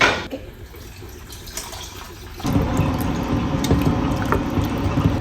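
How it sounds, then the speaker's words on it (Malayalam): Second coconut milk poured into payasam sweetened with jaggery syrup, a soft liquid splash and pour that grows fuller partway through and then continues steadily, close and without talk. "ഈ രണ്ടാം പാൽ ഒഴിച്ചു കൊടുക്കുകയാണ്"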